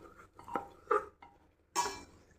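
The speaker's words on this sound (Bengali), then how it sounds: "তো আমি মশলাগুলোকে একটু কষে নিচ্ছি" Masala spices for kabuli chana are fried and stirred in a pan. A few sparse, quiet metallic knocks and clinks of the stirring utensil sound against the pan, with short pauses between them.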